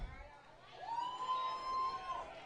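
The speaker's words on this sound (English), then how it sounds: "the McDonough fans are cheering because they finally get a strike call from this umpire" Baseball crowd of McDonough fans cheering from a distance in the stands, a faint, sustained swell of voices with a whistle-like tone, quiet overall.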